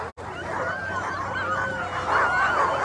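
Sled dogs bark and yip excitedly at the start line of the Knik 200 mile dog sled race in Alaska, a dense close chorus of overlapping whines and yelps that keeps going throughout.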